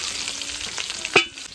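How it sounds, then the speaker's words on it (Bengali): Radish pieces fry in hot oil, a dense, constant sizzle with one brief sharp clink of a utensil near the end, no talking. "এবার আমি তুলে নেবো, সুন্দর করে লাল করে ভেজে নেবো।"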